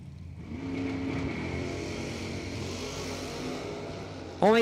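Corvette Roadster drag racing engine at a strip, building from a rumble into a sustained loud harmonic drone, with a sharp rising rev bursting in at the very end.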